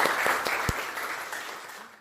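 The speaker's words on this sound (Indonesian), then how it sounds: "tepuk tangannya mana?" Classroom applause at a vocational high school, a dense burst of clapping from a group of students that is loudest at the start and gradually fades over about two seconds.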